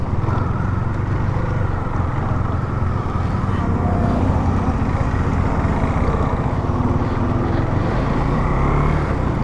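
A motorcycle engine runs steadily after starting, a continuous loud low rumble that holds throughout with no breaks.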